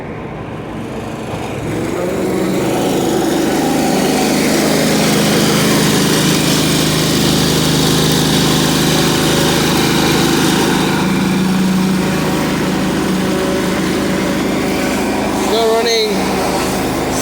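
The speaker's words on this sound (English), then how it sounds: "Still running the Honda IGX 800 though." A Honda IGX 800 engine powering a pressure washer runs as a loud, steady drone throughout, with a turbo nozzle blasting a back chute; the sound rises in the first two seconds and then holds constant.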